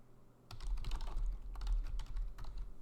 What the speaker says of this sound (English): If I was good at typing.